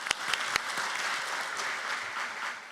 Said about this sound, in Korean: 역시 큰 박수로 맞아주시기 바랍니다